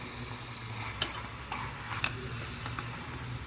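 Rice papads fry in oil in a small kadhai with a continuous close sizzle. A few light ticks and clicks of a utensil sound over it, and no one speaks.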